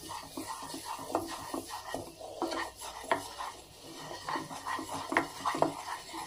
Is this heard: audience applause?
no